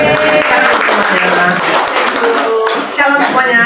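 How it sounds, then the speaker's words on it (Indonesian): A church congregation at a Jakarta prayer fellowship service claps loudly and steadily for several seconds. The dense clapping mixes with music playing underneath. "Tepuk tangan."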